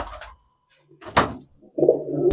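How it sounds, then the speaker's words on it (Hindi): Rampuri pigeons in a loft give short, close coos in separate bursts, with a brief knock between them and a longer, throaty coo at the end. "ये देखें आप माशाल्लाह रामपुरी कबूतर।"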